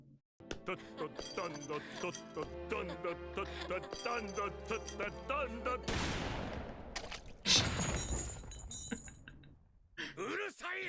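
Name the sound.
gunshot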